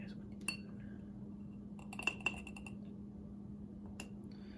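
A teaspoon measuring baking powder clinks lightly against dishes during home baking, a few faint, sharp taps spread over a steady low kitchen hum.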